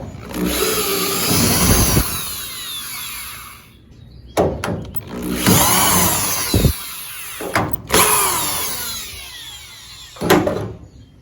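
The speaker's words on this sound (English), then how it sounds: "I'll pop these screws out and do the little spot welds that go into those" Power drill backing screws out of a rusted car window channel body panel, three long whirring bursts with sharp clicks, pauses and a brief final burst, loud and close.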